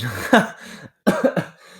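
Two sharp, close coughs come one after another with a brief pause between them, loud and raspy.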